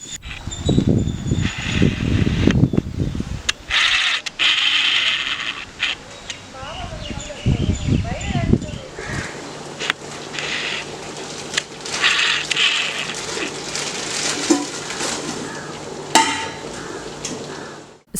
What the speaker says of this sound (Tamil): பெரிய பாத்திரத்துலேயே போட்டு சேமியா கிண்ட போகிறேன்